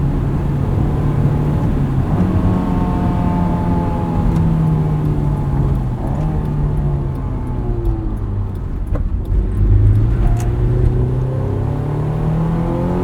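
A 2001 Honda S2000 on snow tires revs hard from inside the cabin, engine pitch climbing steadily into VTEC, dipping briefly and then rising again, loud and continuous.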